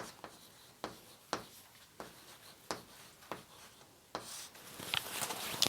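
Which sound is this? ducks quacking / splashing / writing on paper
writing on paper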